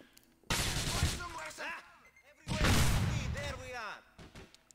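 Gunfire from the GTA IV: The Ballad of Gay Tony video game, two heavy bursts of shots mixed with chirping sound effects, with someone talking over parts of it.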